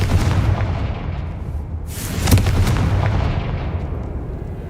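A Confringo blasting spell going off in Hogwarts Legacy: one sharp, loud burst with a crackling tail, rising out of a dense rumbling game background and fading over the next few seconds.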